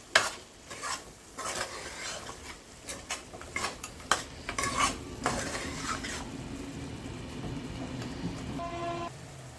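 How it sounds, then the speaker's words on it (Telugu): A poppy seed and coconut paste gets stirred into a pot of mutton curry, a ladle scraping and clinking against the pan in uneven bursts over a faint simmer. "ఒకసారి దీన్ని మొత్తం మంచిగా కలుపుకోవాలి."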